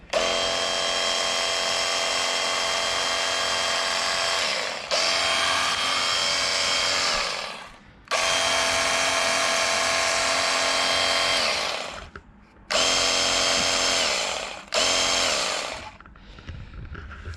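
A cordless pressure washer runs with its hose end sticking up and sucking air, a loud steady mechanical whine that cuts out and restarts several times, with short gaps between bursts.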